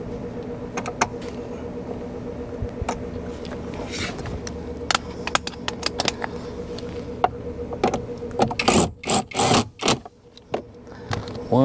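Ratchet turning a bolt on a Mazda 3 blower motor under the dash, irregular metallic clicks and short bursts of rapid ratcheting, close, with a faint steady hum behind.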